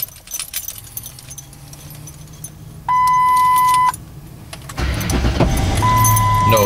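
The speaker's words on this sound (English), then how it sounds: "that's the cold start of the truck" A Ford Sport Trac truck on a cold start: keys jangle near the ignition, a door chime tone sounds, then the starter cranks and the engine catches into a loud, steady idle up close.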